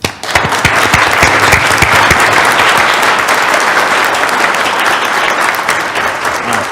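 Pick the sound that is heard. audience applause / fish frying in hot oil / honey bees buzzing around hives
audience applause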